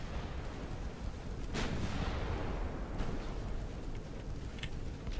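Warship 9-inch guns firing in a naval battle game, sharp booming reports around 1.5 and 3 seconds ringing over a dense rumbling background of distant gunfire and battle noise, with no voices.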